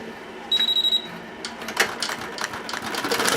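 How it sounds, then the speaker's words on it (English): An embroidery machine starts up to stitch a white and gold design onto a nylon bag. It opens with a short beeping tone, then gives a rapid, close mechanical clatter that builds steadily, with no talk. "Okay, we're at the machine and we're going to get this going."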